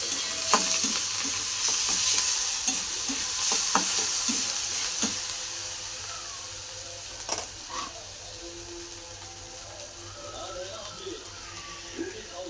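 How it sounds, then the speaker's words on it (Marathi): Onion and coriander sauté in a pan with a soft continuous sizzle and occasional stirring scrapes, fairly quiet and close, with faint background sounds and no one speaking. "कोथिंबीर पण टाकून घेते, ती पण चांगली परतून घेऊ"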